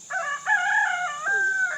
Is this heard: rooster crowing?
yes